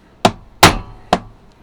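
Hammer blows driving a hand punch through padding while cutting panels for a padded greatsword and spear, three sharp close thwacks, the middle one heaviest, with brief quiet between them.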